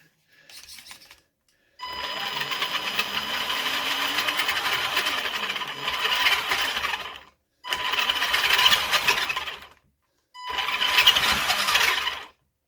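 The small electric motor and gears of a Kyosho Mad Van RC car with a replacement spur gear whir in steady bursts, wheels off the ground on a wooden block, revving for several seconds with short pauses, close up and without talk.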